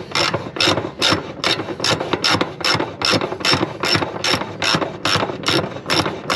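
A hand ratchet turns a drain plug on a boat engine ahead of cold weather. It clicks loudly and up close in a fast, even rhythm of repeated strokes and plays alone, with no talk.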